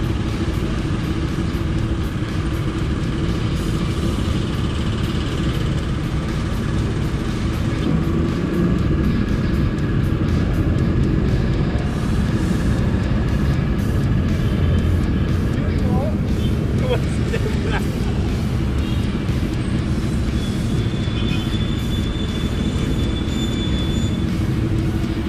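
A Honda BEAT Fi scooter-style motorcycle on a test ride, its engine a steady, continuous drone with road and wind rumble, loud and close throughout, with voices talking over it.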